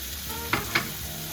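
Vegetables for baked ziti sizzle steadily in a hot pan, with two short scraping stirs breaking through the hiss.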